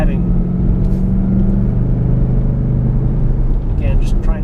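A stock 2012 Mustang GT drives on tight mountain roads with a loud, close, steady engine rumble and low droning throughout, and a person talks briefly over it.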